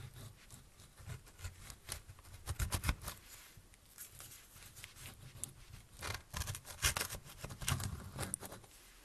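Knife slicing through a strawberry pie, with close crunchy scraping and crumbly crackling of the crust in irregular bursts over several seconds.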